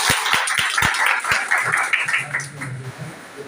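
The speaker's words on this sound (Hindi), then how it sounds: "जोरदार से तालियां बजा दीजिए।" A crowd of lawyers at a victory celebration for advocate Chandrashekhar Azad in Ghatampur claps in short bursts, with several sharp claps at first, then thinning, uneven clapping under voices.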